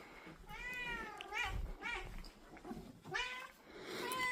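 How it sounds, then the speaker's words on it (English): A house cat meows repeatedly at feeding time, several drawn-out, rising and falling cries close by, with soft background noise and low thumps between them. "I go straight over to my cat"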